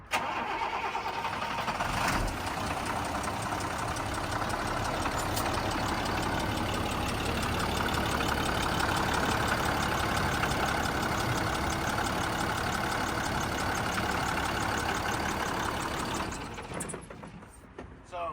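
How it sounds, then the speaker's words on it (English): A cold diesel truck engine, warmed first with glow plugs, cranks and catches within a couple of seconds, then settles into a steady, loud, even idle that runs close and continuous before cutting off near the end. "I'll go ahead and fire it up so you can see how quickly it does fire up"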